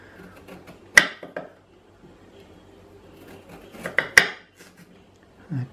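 A Myvit ceramic slicing knife cuts on a board: two sharp, loud clacks stand out among softer, scattered cutting noises, with no talking.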